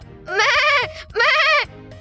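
A goat bleats twice, loud and close, each call a quavering, drawn-out cry, in a scene from the Tamil television series Tenali Raman.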